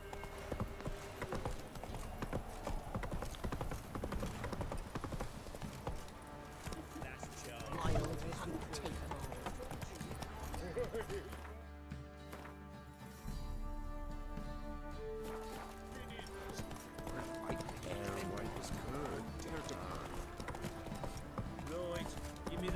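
Horse hooves clip-clop at a gallop in The Witcher 3, a continuous rhythmic pounding layered with game music and ambience, briefly dropping out midway before resuming.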